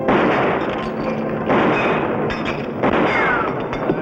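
Gunshots in a Western drama, heavy booming reports at a steady pace, three or four loud cracks roughly a second or more apart over a noisy background.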